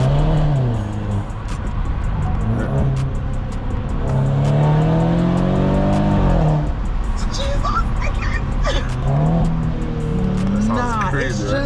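A friend's car being driven, its engine revving up and down repeatedly in rising and falling sweeps, loud and close, with people talking over it.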